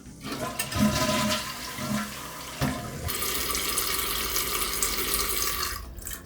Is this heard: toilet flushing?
yes